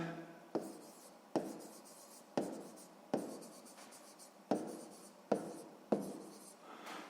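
Pen strokes on paper while working a sixth-grade maths exercise by hand, a series of sharp scratchy onsets about every second, each fading off, close and alone with no voices.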